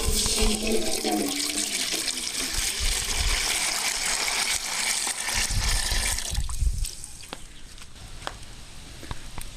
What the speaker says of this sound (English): And we will pour water in there now.